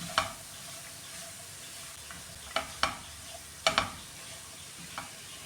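Papaya thoran being mixed in a pan, with scattered scraping stir strokes and light clicks against a steady faint sizzle, no voices.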